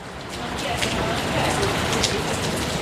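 Steady rain falls during a storm in Topeka, Kansas, a dense continuous hiss of drops on surfaces with no breaks.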